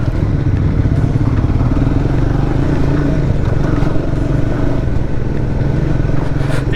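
Triumph motorcycles, a Speed 400 and a Speed Twin, ride along together, a loud continuous engine drone and road rumble heard close from on board with wind noise and no talk.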